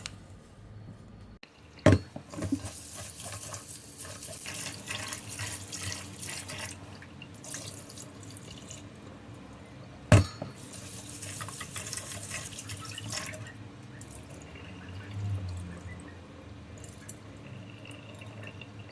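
Tap water running and splashing into a container as glutinous rice is washed for suman, a steady soft stream with two sharp knocks and intermittent louder gushes.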